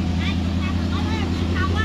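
A small motorized wooden boat's engine runs steadily on a river during line fishing, a loud close drone under voices talking.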